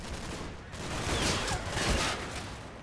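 Distant machine gun fire from an MG position in the WWII Normandy wargame Combat Mission: Battle for Normandy, a muffled rattling burst of shots that swells and fades over a few seconds.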